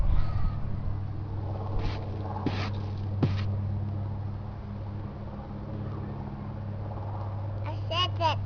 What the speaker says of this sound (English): A bird. You see a bird?